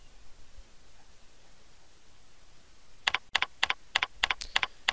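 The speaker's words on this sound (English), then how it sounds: "And you do that by typing in CD space." Someone types on a computer keyboard. The quick, close, crisp keystrokes come in a short burst after a stretch of quiet room noise.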